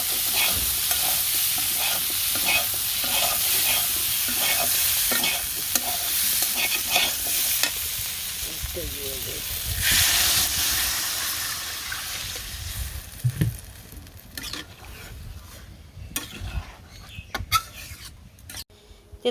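Cumin seeds hit hot oil in a home kitchen pan, giving a loud, close crackling sizzle that gradually settles and thins, broken by a few sharp clinks and scrapes near the end.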